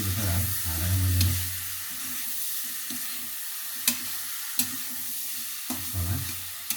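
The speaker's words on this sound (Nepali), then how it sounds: "र मैले यसलाई 2-3 मिनट जति भुटिसकेको छु।" Chicken seasoned with turmeric fries in a pan, a steady sizzle broken by the scrape and clatter of stirring, with a few sharp knocks of the utensil against the pan.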